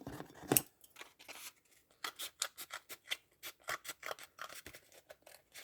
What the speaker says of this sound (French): Mélanie, appuie d'abord dessus pour avoir le repère pour couper